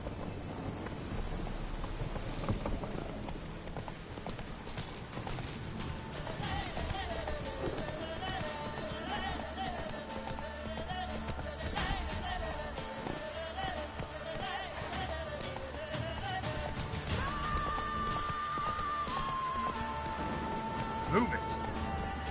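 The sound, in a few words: horse Roach galloping in video game Witcher 3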